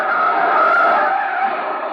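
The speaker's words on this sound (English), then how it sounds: "Jam on the brakes." Tires skid loudly as a car's brakes are jammed on during a chase, a steady sustained screech lasting the full two seconds, close and with no voices.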